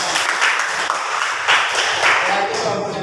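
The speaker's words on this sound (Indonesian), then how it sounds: "Tepuk tangan." A classroom of students claps together, loud and close, with a brisk scattered rhythm and a couple of denser surges while a voice speaks briefly underneath.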